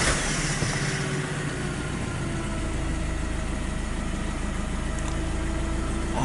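A Nissan NP300 engine runs at a steady, close idle, a continuous low rumble with no talk over it.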